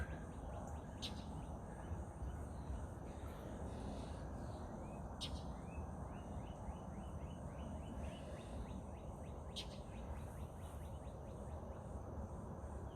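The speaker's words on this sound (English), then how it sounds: "That's a red-tailed hawk that you hear in the distance." Far off, a red-tailed hawk gives a few faint, thin cries, spaced several seconds apart over a steady outdoor wash of wind and ambient noise on a cloudy morning.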